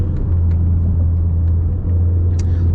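An automatic Mustang engine with paddle shifters drones steadily in 4th gear at 4,000 RPM with a deep low rumble, holding a constant loud pitch with a brief dip near the end before a shift, no voices.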